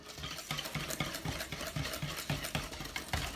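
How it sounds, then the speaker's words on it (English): A whisk scraping and stirring thickening pudding mixture in a pot for an alligator pie, with quick regular strokes and soft rhythmic clinks, fairly quiet. "you want to keep stirring because that 2-minute stirring helps thicken the pudding up"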